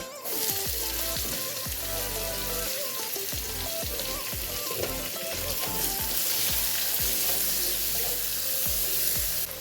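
Loud, constant sizzle of onions frying in a pan of oil, with occasional stirring scrapes and clinks near the microphone.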